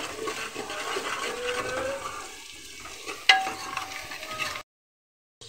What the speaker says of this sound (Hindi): इसे डालकर हम अच्छे से मसालों को भून लेंगे